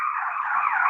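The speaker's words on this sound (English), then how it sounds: "That was the fire engine." A fire engine siren, a steady loud wailing tone held throughout the short moment with no talk over it.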